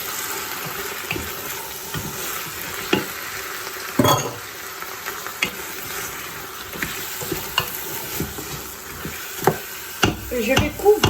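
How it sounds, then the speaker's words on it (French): Harira soup with chopped coriander and parsley is stirred in a Ninja Foodi, with scraping utensil strokes and clinks over a low simmering sizzle and soft watery sounds, close and moderately quiet. "Je vais mélanger."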